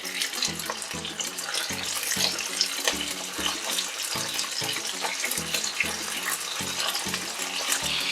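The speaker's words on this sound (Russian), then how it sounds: "Обжариваем их до корочки" Deboned chicken wings stuffed with pineapple sizzle in a frying pan, a steady, bright hiss with crackle that runs unbroken throughout, with a faint low rhythmic thump underneath.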